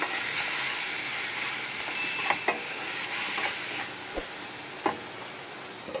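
Cashew gravy going into a pan of frying mushroom masala, with a steady close sizzle and a few sharp stirring scrapes and clinks of a spoon against the pan.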